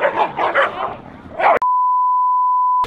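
Dogs in an off-leash dog area give quick close yips and barks for about a second and a half, then a loud steady electronic beep cuts in and holds until the end.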